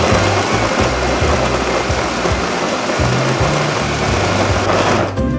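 Hario V60 electric coffee grinder grinding beans to a coarse setting, a loud continuous whirring grind with rattling low-end pulses throughout, cutting off just at the end.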